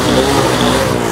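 A Yamaha 100 motorcycle and a China CD 70 bike run their engines side by side, a loud, close, continuous buzzing rev with no talk over it.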